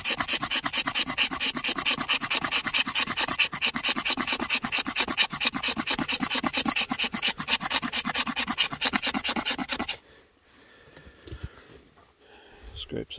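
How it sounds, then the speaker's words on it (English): Fast, steady rasping strokes of a pocket knife scraping a piece of fatwood, loud and close, repeating evenly for about ten seconds before stopping, followed by quieter handling noises. "Scrape some fat wood."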